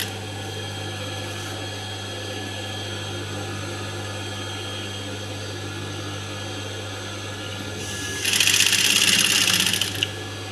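A sewing machine stitches piping onto a blouse with a steady, close mechanical hum, then speeds into a louder, rapid whirring burst for about two seconds near the end before it slows.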